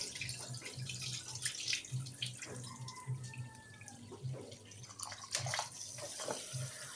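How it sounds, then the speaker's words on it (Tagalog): Rice being washed with water, with a continuous splashing and trickling wash of water and soft swishing, faint, over a low steady background hum. "Hugasan muna natin yung bigas."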